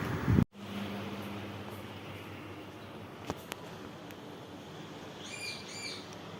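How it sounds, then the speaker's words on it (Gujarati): A bulbul calls in a quiet village setting, a few short bright chirps arriving late and faint over a steady low hum of background noise. "આ બુલબુલ."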